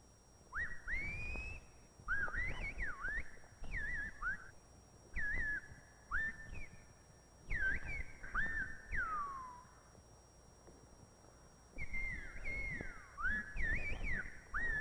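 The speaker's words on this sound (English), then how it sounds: "the Gomeras contrived an extraordinary form of telephonic speech, whistling, which can be understood over a distance" Silbo Gomero, the whistled language of La Gomera, carries in bursts of sliding, rising and falling whistles, clear and fairly close, grouped into phrases with short pauses between them.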